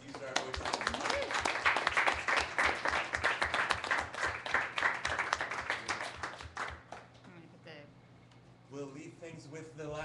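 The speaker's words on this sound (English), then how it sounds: "How about a round of applause for everyone who's used our voices?" An audience at a community gathering breaks into a burst of clapping that holds steady for several seconds, then thins out and fades, leaving a few voices murmuring afterward.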